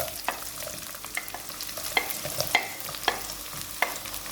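Oil heats in a pan before onions go in for a chana chaat recipe: a soft, close sizzle runs throughout, broken by irregular taps and scrapes of a stirring utensil.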